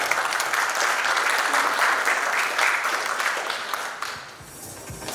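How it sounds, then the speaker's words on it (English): An audience at Osmocon 2022 gives sustained applause, a dense clapping wash that holds steady and then thins out toward the end, with faint talk mixed in. "Another round of applause for Mr. Alpin."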